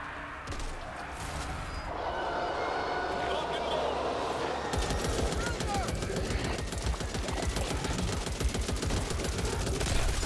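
Gunfire in the zombie shooter Back 4 Blood, most likely from an RPK: after scattered shots, a rapid, sustained automatic burst rattles on for several seconds while a player talks over it.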